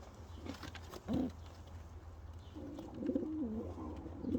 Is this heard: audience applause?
no